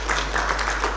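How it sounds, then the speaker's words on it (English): Applause greets committee members arriving at a university humanities lecture, a brief dense burst of clapping from a crowd, steady and moderately loud. "Can we give them a round of applause as they come in"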